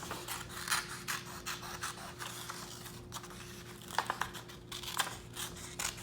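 Scissors held still snip through paper in a run of short, close crisp cuts, with light rustling and scraping as the paper is turned, quiet with no talk.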